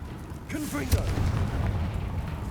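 A Confringo blasting spell cast in Hogwarts Legacy bursts out as a booming, explosive blast over dense game combat noise, with a sharp hit near the start and a sustained rumbling roar beneath.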